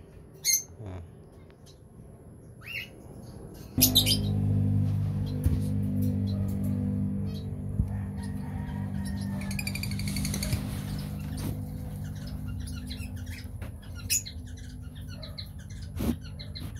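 Caged finches offered for sale chirp and squawk in short bursts over a steady low hum, with scattered sharp calls throughout.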